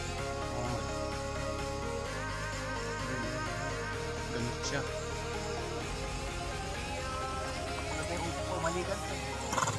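A horse whinnies amid steady clopping hooves and dense background noise, with voices talking now and then.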